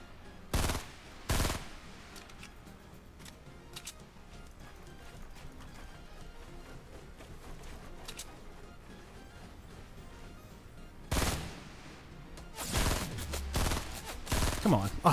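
Gunfire in a Fortnite match: short loud bursts of shots at the start and clustered heavily near the end, separated by a long quieter stretch of low game ambience.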